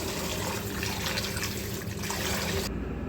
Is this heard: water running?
yes